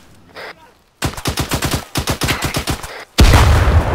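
Gunfire in the military shooter Arma 3: a single muffled shot, then rapid bursts of automatic fire in quick succession, followed by a loud, booming blast of heavy shooting up close.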